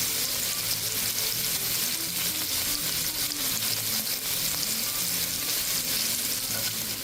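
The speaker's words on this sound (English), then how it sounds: "see the shrimp is cooking" Shrimp sizzling and frying in a hot pan for a chili lime shrimp ramen bowl, a steady dense crackle of oil running continuously at a close, even level with no talking.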